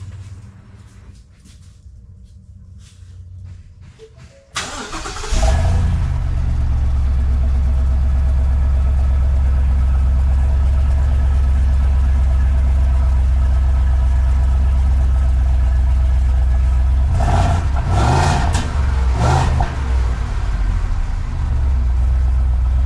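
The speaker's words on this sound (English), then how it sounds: "I'm going to do a quick cold start" A 2021 Ford F-250 with the 7.3L V8 and stock exhaust cold starts in freezing weather, a quick crank catching into a loud, steady, deep idle rumble that holds throughout.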